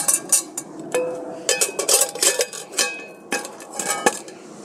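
Metal camping cookware, a hanging pot and its lid, clanks and rattles as they knock together, with several bright clinks in quick succession close by.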